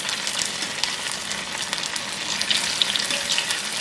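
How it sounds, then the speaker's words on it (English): Cauliflower pieces for Gobi Manchurian deep fry in hot olive oil in a cast iron pan, giving a steady, close, crackling sizzle throughout with small pops and bubbling. "So you can just fry this both sides, like maybe like 2-3 minutes, or until they're golden brown."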